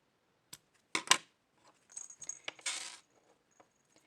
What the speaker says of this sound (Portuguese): Posso cortar o meu fio.